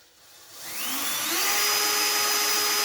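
Power drill boring a fixing hole during installation of a Wolseley Center Quadrant shower door, a steady whirring whine that rises in pitch and runs continuously at close range without talk.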